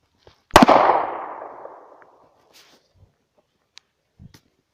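A single loud, sharp gunshot from a .40 handgun fired at a homemade bulletproof riot shield, with a long decaying outdoor echo, followed by a few faint scattered knocks.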